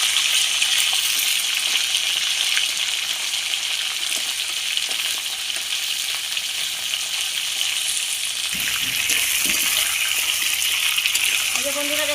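Large katla fish heads from a 10 kg fish frying in hot oil, a loud, steady, close sizzle and crackle that runs without a break, with a few clinks of utensils near the end.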